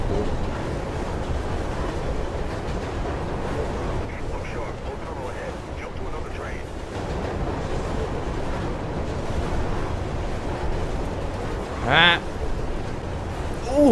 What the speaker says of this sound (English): Yes, taking the train.